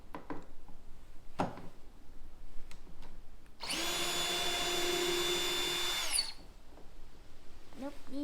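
A power drill spins for a sustained burst of about two and a half seconds, removing screws from the tailgate panel of a Ram Rebel pickup; a few short clicks and knocks come before and after it.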